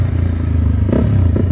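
A Honda Titan 150 motorcycle fitted with a quickshifter revs loudly up close, its engine note droning steadily and then shifting briefly midway as the gear changes.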